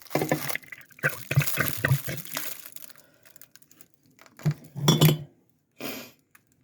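Home-canned crushed tomatoes slide out of a glass quart jar into a pot of chili, with glassy clinks, wet plops and rattling in short bursts and quiet gaps between them.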